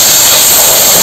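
Lentils hit hot tempering oil in a kadai with dried chilli, five-spice, bay leaf, ginger and garlic, giving a short, loud, close burst of hissing sizzle.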